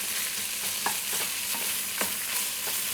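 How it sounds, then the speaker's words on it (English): Onions sizzle steadily in a hot pan for a shakshuka, with a loud, constant frying hiss broken by periodic scraping strokes of a utensil stirring them. "So I'll get these onions going first."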